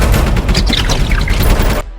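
A loud, dense fusillade of rifle gunfire in a film chase scene, rapid overlapping shots filling nearly two seconds before cutting off abruptly.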